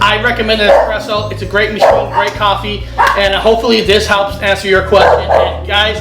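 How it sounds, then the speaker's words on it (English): An English Bulldog and a Chihuahua bark and yip repeatedly in quick bursts while a person keeps talking over them close to the microphone. "sorry for the dogs"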